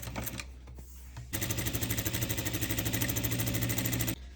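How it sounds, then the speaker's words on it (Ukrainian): A sewing machine runs a steady straight stitch along a collar seam, its rapid even mechanical chatter starting after a quieter moment and stopping abruptly, close and loud. "І продовжуємо строчку звичайним стіпком."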